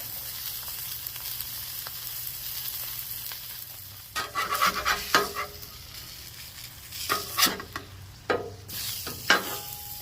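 An onion burger sizzles on a VEVOR 22-inch tabletop griddle, a steady low hiss that breaks into louder bursts of scraping and spatula clatter around the middle and near the end, with no one speaking.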